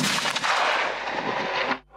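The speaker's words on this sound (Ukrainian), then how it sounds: "Це перший постріл, який бійці Дніпровської бригади ТРО зробили з цієї трофейної БМП" Gunshot from a captured BMP infantry fighting vehicle fired on a test range, a single loud, heavy blast with a long rolling decay that stays at full strength for almost two seconds before cutting off abruptly.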